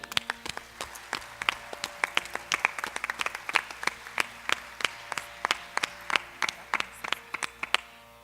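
An audience claps for Shri Narendra Kumar Lakshmipati at an Arangetram dance recital, a thin, fairly sparse round of distinct individual claps rather than a roaring ovation, spread steadily throughout.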